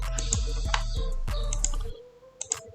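Fingers type on a computer keyboard in a quick, close burst of sharp clicks that stops abruptly, leaving a few isolated taps.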